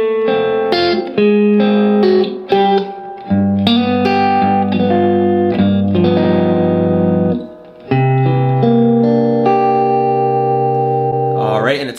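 An electric guitar plays a blues turnaround in C slowly and clearly, with ringing single notes climbing into sustained chords and a brief pause near the end.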